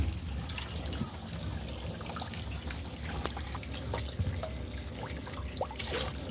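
Water pours and trickles steadily into a washing machine drum as it fills for washing wool with white vinegar added, a continuous close rushing flow with scattered drips and splashes throughout.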